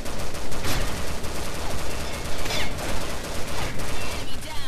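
Repeated double-barrel shotgun fire in Combat Arms, several sharp blasts spaced irregularly over a steady background din, with no talking.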